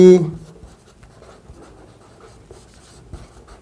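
Chalk or marker strokes scratch across a board as a geometry proof is written out, giving short irregular scrapes and taps close by at a quiet, steady level, with no talk.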